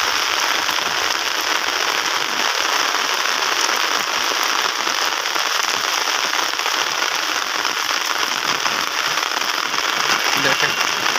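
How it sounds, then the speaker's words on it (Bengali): Heavy morning rain pours onto a road in a steady, dense hiss that holds without pause from start to finish, loud and close, with no voices. "এটা হচ্ছে রাস্তার মধ্যে বৃষ্টি বেশি হচ্ছে"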